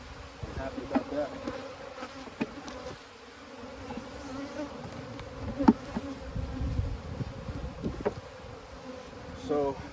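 Honeybees from an abandoned hive swarm and buzz steadily at close range, a dense droning hum with brief louder passes as individual bees fly near, and no talking.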